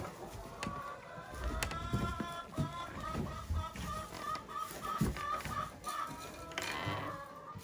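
Several chickens cluck repeatedly at close range, overlapping in an uneven rhythm, with scratchy rustling and thumps beneath them.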